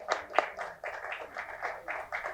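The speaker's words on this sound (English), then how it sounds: "Let's give a round of applause for Kushal Kulkarni." Sparse audience clapping at a trailer launch event, a handful of separate claps and taps, fairly faint and thin rather than a full ovation.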